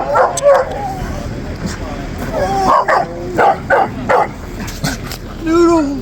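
Several dogs, one a white dog, greet people at an overland camping expo with excited yips, barks and whimpers in short bursts, close by and mixed with cheerful talk.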